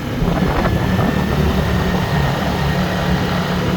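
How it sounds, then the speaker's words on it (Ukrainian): Linhai 320 ATV engine droning steadily in low gear while towing a trailer loaded to about 1800 kg, a continuous rumbling hum close by with no talk. "Ось вона понижена передача, квадроцикл їде не швидко."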